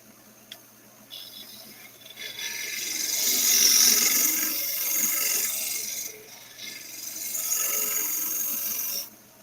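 A skew chisel, a thick Thompson skew, takes fine shavings from wood spinning on a lathe. It makes a soft, continuous rasping hiss that swells and fades over several seconds. The sound is close and moderately quiet, with no voices.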